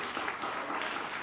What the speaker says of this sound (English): let's give you all a hand clap for all of your hard work you do in and day out